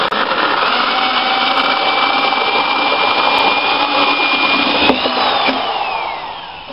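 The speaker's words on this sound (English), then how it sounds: "Drill your hole." A power drill whines steadily as it bores a hole into PVC, a continuous high-pitched grinding buzz that shifts briefly near the end.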